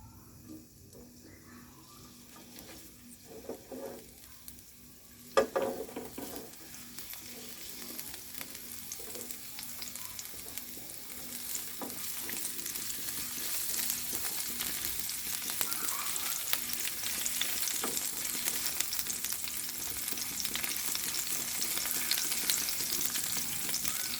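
Chili and garlic fry in hot oil in a pot, starting with a few quiet clinks and a sharp clatter before a steady, loud sizzle builds and holds to the end, with no talk.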